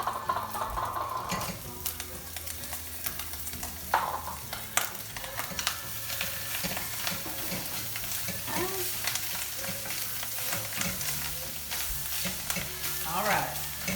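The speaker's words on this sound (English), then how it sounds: "So at this point, I'm going to throw our sauerkraut in." Sauerkraut frying with bacon in a hot pan, a steady close sizzle with stirring scrapes and occasional clatter throughout.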